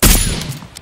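A single loud, close burst of gunfire in PUBG Lite cracks sharply and then fades into a short ringing tail.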